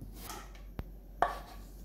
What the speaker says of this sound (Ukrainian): Одну середню цибулину нарізаю тоненькими кільцями.